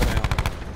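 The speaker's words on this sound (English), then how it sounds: "I got sniped from across the window, across the way" Rapid burst of gunfire in a video game set on Alcatraz, several sharp close shots in quick succession over less than a second, with no talking.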